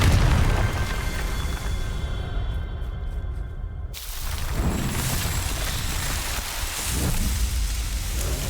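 A Confringo explosion spell in the Hogwarts Legacy video game, a loud rumbling blast with crackling debris and a hissing, rain-like wash of noise that trails off.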